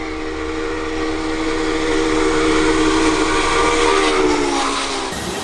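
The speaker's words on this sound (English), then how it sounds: "Looks like that might be a steam vent or something." A steam vent beside train tracks gives off a loud, steady, broadband hiss that holds for several seconds and then drops off abruptly, with no talking over it.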